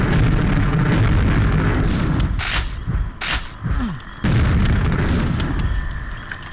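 A dead ogre blows up in a video game, a loud, sustained explosive roar with booming bursts that dips briefly before rumbling back at full strength.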